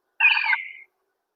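A single short bird call sound effect played in Scratch: one bright, squawking chirp lasting well under a second, heard alone against silence.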